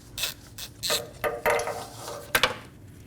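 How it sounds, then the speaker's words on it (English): Ratchet with a 12mm socket removing an intake manifold bolt on a 2008-2015 Scion xB 2.4L, a series of quick close clicking bursts in short uneven strokes, fairly quiet. "12mm socket, we're going to remove the bottom bolt for the intake manifold"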